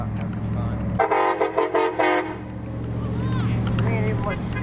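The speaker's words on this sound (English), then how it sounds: "Me and everyone scared of that honking, man." A car horn honks near the beach at Grand Isle: a burst of loud, blaring honks lasts a little over a second over a steady low engine drone.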